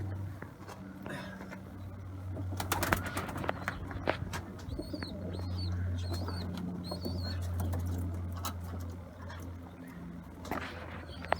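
In a pigeon coop, low cooing hums on and off beneath scattered clicks and rustles, with a few soft bursts of wing flapping nearby; faint voices occasionally in the background.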